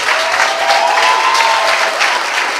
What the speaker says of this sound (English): let us all just stand and give him a round of applause